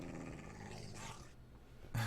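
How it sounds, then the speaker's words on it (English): Growling from a dog-like creature in the Minecraft video game, a continuous low rumbling snarl that holds steady and fairly loud for about two seconds before a brief sharper burst at the end. "I can hear growling."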